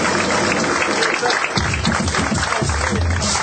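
A crowd claps in applause after a dance battle at a venue, a dense continuous patter that holds steady and fairly loud throughout.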